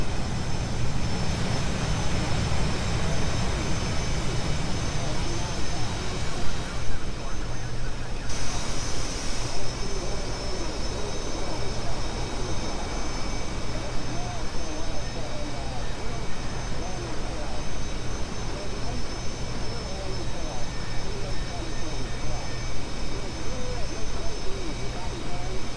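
A jet lands on an aircraft carrier in the DCS Supercarrier flight simulator, a continuous loud engine roar and rush that fills the whole stretch, with a brief dip near the start and someone talking over it.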